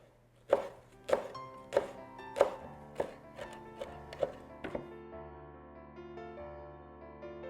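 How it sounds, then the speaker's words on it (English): A knife strikes a cutting board while chopping fresh sage and rosemary, giving about eight crisp, evenly spaced thunks close by and then quiet. "I'm going to chop up some fresh sage and some fresh rosemary"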